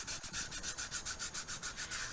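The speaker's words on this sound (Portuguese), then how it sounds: "tanto a superfície do gesso preto quanto do gesso branco, elas fazem esse barulhinho, porque elas são superfícies ásperas" Rough surfaces coated in black and white gesso being rubbed in rapid, even back-and-forth strokes, about a dozen scratchy hissing pulses close to the microphone, with no talk.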